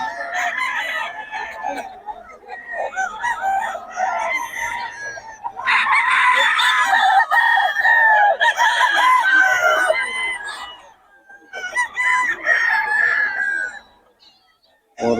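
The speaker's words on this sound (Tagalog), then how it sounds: "Ang quality manok ng Boss Batang." Fighting roosters crow repeatedly and loudly nearby, their long calls overlapping with clucking from other fowl, pausing briefly before more crowing.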